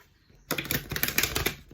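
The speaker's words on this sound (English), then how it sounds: "One more shuffle for your message" A quick riffle of tarot cards being shuffled, a brief burst of flapping, crisp clicks close by after a moment of quiet.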